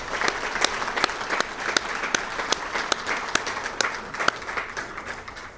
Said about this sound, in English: give him a big warm round of applause